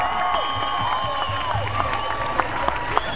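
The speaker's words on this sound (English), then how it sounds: "Come on, big round of applause." Audience applause and cheering at Tropfest 2012 in New York, a steady crowd wash with scattered claps and shouts, mixed with background chatter and music-like tones throughout.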